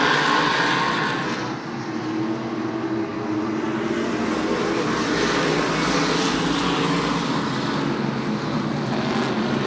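Short track race cars battle down the back straight at a super short track racing series event, a loud continuous engine roar with sustained high-pitched whine across the whole stretch.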